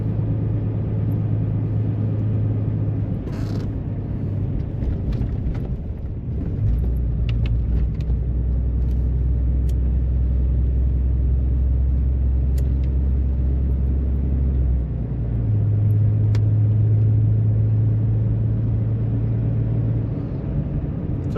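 A pickup truck drives along a mountain road through Kanawha State Forest, its engine and tire rumble steady and close throughout, with the engine note shifting pitch partway through and a few faint clicks and rattles inside the cab.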